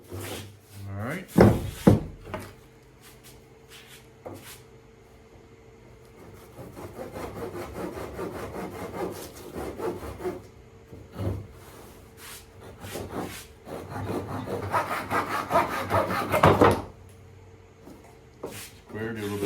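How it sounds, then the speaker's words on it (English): Wood being cut with a hand cutter during ultralight aircraft construction, a Minimax 1030S build, with bursts of rasping sawing strokes through the middle and late stretch, close and moderately loud, between knocks and handling noises. "I think I'll start to cut with my cutter."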